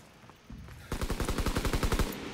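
Call of Duty WWII multiplayer domination match in Aachen: a rapid machine gun burst of about a dozen sharp, evenly spaced shots, loud and close, after a brief quieter lead-in.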